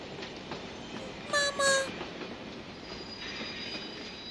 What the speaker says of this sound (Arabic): عندما رأى القطار يقترب